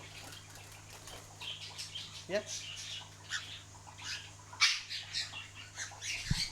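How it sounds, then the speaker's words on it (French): A pet cockatiel flutters and calls indoors, with soft wing flaps, a short chirp and scattered rustling at moderate distance, while people talk quietly nearby. "Ça, c'est un cocatel"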